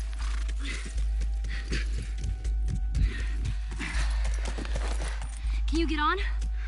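Horse hooves clip-clop in The Last of Us video game, with steady footfalls under a constant wash of in-game ambience.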